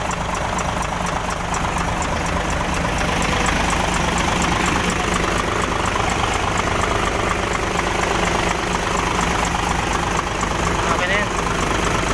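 An Isuzu 6WF1 diesel engine idles just after a tune-up, a loud, steady, low rumbling drone with mechanical clatter. Voices talk over it now and then.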